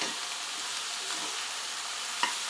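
Garlic and onion frying in hot fat with chicken for a country-style chicken dish, giving a dense, continuous close sizzle with faint stirring and one brief clink near the end; no voices.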